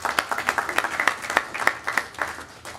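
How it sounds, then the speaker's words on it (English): Brief, fairly light applause from a small audience at a startup marketing event, with scattered individual claps standing out through the short burst. "if we give a round of applause for those supporting organizations"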